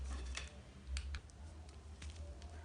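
Fabric corset pieces being cut out with scissors: faint, scattered crisp snips and clicks at irregular intervals over a quiet, low hum.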